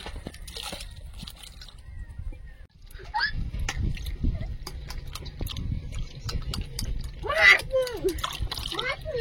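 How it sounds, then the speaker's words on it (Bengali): Garden vegetables freshly picked, including bitter gourd, being rinsed in water outdoors during heavy rain: intermittent splashes and sloshing up close over a steady rain wash, with a voice talking at moments. "সবজিগুলো সব ধুয়ে নেব।"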